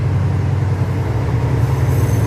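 A heavy GEA diesel locomotive engine roars with a deep, steady low rumble at Hua Hin railway station, loud and close, continuing without pause and with no voices.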